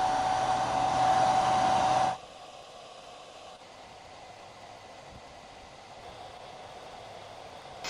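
A 1400 W hair dryer runs at full power, giving a loud steady whoosh of blown air for about two seconds. It then cuts to a much quieter, even hum.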